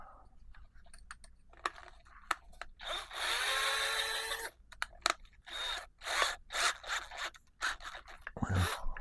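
A battery-powered drill fitted with a bit whines in short bursts while working on a model B-17 air-retract installation, one longer sustained run amid quick start-stop pulses and clicks, fairly close and moderately loud.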